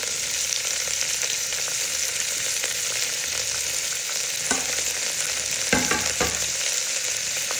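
Cardamom and star anise sizzling in hot oil for tempering, a steady close frying hiss with a few sharp stirring clinks and scrapes toward the end.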